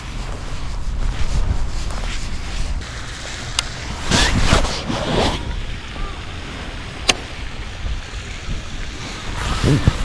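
Steady wind buffeting the microphone on open water during bass fishing, a broad rushing roar that swells in gusts, with a couple of sharp knocks.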